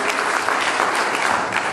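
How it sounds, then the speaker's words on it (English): Brief, dense burst of crowd applause at a Democratic party gathering in Virginia, many people clapping together at steady loudness. "let's give Charneil another big round of applause"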